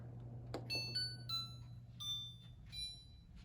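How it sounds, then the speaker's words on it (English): A Winix 6300-2 PlasmaWave air purifier runs with a steady low, faint motor hum, while several short electronic beeps sound at intervals above it. "So that's what the Winix sounds like."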